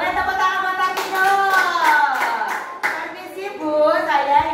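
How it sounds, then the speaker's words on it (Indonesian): A classroom of children claps for a classmate named Vino, a ragged burst of hand claps mixed with young voices chattering and calling out over it. "Boleh tepuk tangan buat Vino"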